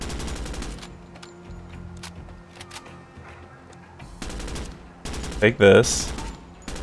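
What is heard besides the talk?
gunfire in the video game Door Kickers 2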